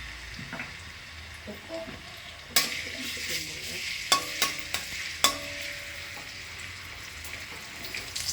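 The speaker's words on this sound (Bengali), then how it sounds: "এবার তেলের মধ্যে থেতো করা রসুন ছেড়ে দিলাম।" Crushed garlic frying in about four tablespoons of hot oil in a wok, a steady sizzle with sharp crackles and stirring clatter mid-clip, moderately loud and close.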